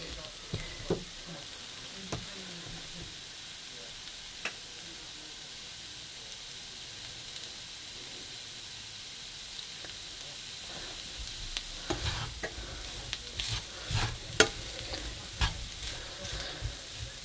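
Egg fried rice ingredients sizzle steadily in a hot pan, a continuous soft frying hiss with scattered crackles and pops that grow busier toward the end.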